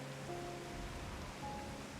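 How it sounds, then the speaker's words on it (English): Steady soft rain ambience in Final Fantasy XIV, a constant hiss with faint low tones beneath it and no sharp events. "It's cozy with the rain."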